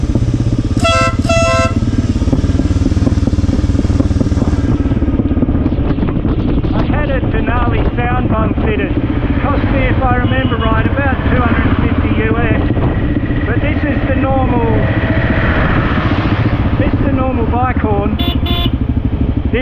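A motorcycle rides a winding mountain road in Nepal, its engine droning close and loud against heavy wind buffeting. A deep, truck-like horn blasts in short bursts near the start, and someone talks over the ride.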